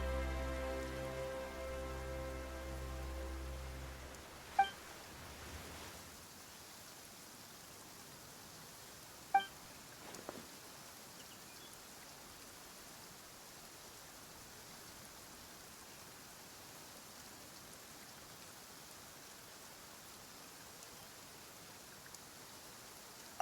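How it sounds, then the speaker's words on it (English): Steady soft rainfall hissing down in the Genshin Impact game world, arriving suddenly after a low musical drone fades out, with a few faint chimes and light taps over the continuous wash of rain. "Why is it raining all of a sudden?"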